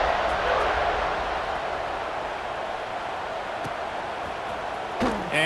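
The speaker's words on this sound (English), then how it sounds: "this crowd is buzzing after that last score" A stadium crowd in the College Football 26 video game buzzes and roars continuously after a score, a dense steady wash with a sharp thump near the end, under commentary.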